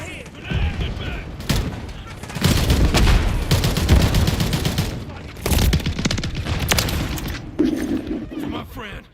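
Grenade explosions and gunfire in Call of Duty Modern Warfare 3, with dense bursts of shots and booms rolling continuously, loud and close, mixed with game voice callouts.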